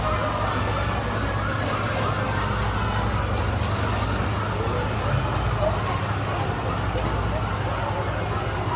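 A fire truck siren at a residential fire in Port Area, Manila blares steadily in the distance beneath a noisy crowd, with people talking nearby throughout.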